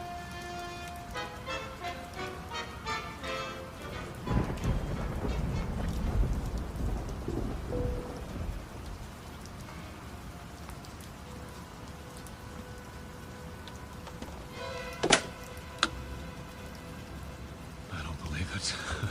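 Heavy rain drums steadily with rumbling thunder during a storm heard from inside an airplane cabin, a dense continuous wash with deeper swells midway and sharp cracks near the end, accompanied by dramatic music.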